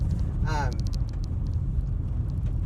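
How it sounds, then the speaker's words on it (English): Steady low rumble of a shaking car buffeting the microphone, a constant loud roar underneath a person talking throughout. "the car is shaking and the microphone's probably making a ton of noise"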